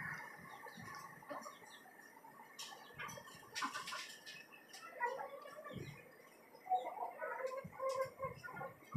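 Desi chickens, including tiger roosters and hens, cluck and call from cages on a rooftop farm, scattered short clucks and squawks at moderate distance over a quiet background.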